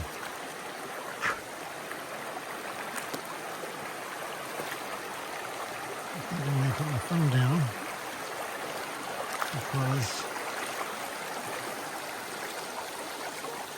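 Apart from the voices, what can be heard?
river water flowing around someone wading across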